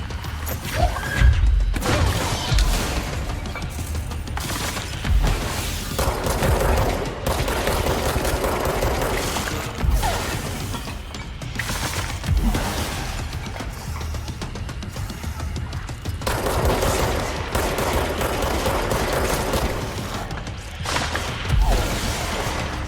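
Enemy gunfire in the game Control, repeated bursts of rapid shots and heavy impacts over about twenty seconds, loud and close, with mechanical clanks between volleys.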